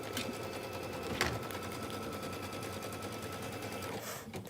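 An embroidery machine sews a straight line on a Kimberbell wallflower quilt block, giving a steady rapid mechanical needle rattle throughout, close and fairly loud, with a brief knock near the start and a short hiss at the end.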